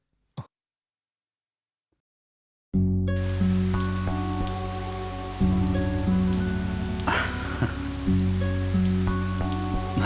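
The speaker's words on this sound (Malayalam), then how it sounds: "നല്ല മഴ അല്ലേ?" Heavy rain pours down steadily after a near-silent opening. From about three seconds in it forms a dense, continuous wash with a sustained tonal backing underneath, and no one speaks.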